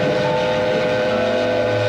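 A loud, continuous rumble and drone fills Grand Central Terminal as trains move through, with a sustained horn-like tone rising toward the end and no voices.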